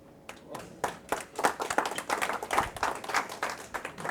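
Sparse, uneven clapping from a small audience at a medical marijuana clinic talk, a handful of people striking hands in separate bursts that thicken briefly and then thin out, moderately close in a quiet room.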